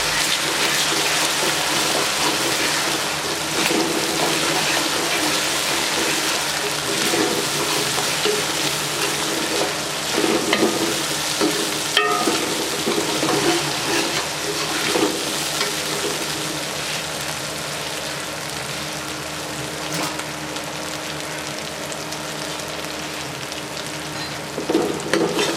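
Green chillies fry in hot oil with ginger in a pan for a potato and black-eyed bean curry, a steady loud sizzle with occasional stirring scrapes running throughout.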